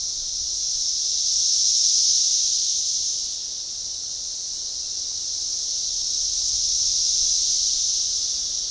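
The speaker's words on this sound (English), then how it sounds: "You guys hear those cicadas?" Loud cicadas drone in a continuous, high buzzing chorus outdoors, swelling slightly and then easing, with no talk over it.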